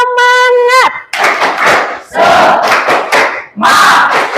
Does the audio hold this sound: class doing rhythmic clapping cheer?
yes